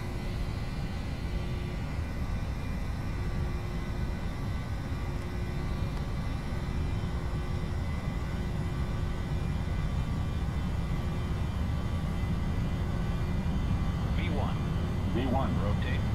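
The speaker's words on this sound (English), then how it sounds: "Takeoff power set." An airliner's engines run at takeoff power on the runway on a Frankfurt to Stockholm flight, a steady, loud broadband roar that holds the whole time without a break, recorded from the cockpit.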